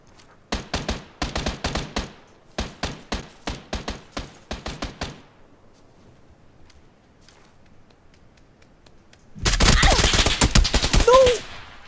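Video game gunfire with the weapon on single-shot mode: bursts of sharp, rapid reports in quick clusters, then a pause and a dense, loud barrage near the end.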